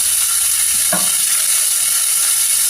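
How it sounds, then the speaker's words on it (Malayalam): Crushed shallots, garlic and ginger fry in a pressure cooker for biryani, giving a steady, close hiss of sizzling oil, with one brief scrape of a stir near the start. "എന്നിട്ട് നന്നായിട്ട് നമുക്കൊന്ന് ഇളക്കി കൊടുക്കാം."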